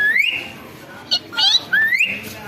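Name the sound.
person imitating a parrot's call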